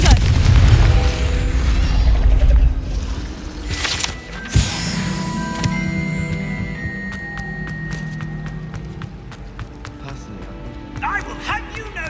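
A Confringo fire spell is cast in Hogwarts Legacy, bursting with a sharp boom around the four-second mark over dense game background sound, followed by crackling and chiming effects; a voice talks throughout.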